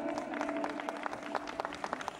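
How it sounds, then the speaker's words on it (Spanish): A crowd applauds a singer named Belén at a farewell music event, with steady scattered clapping at moderate volume under a faint background hum. "¡Fuertes aplausos para Belén!"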